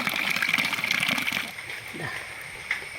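Water running from a pipe into a small brass kindi vessel at a house, a close splashing gush that eases into a quieter trickle, with someone talking over it.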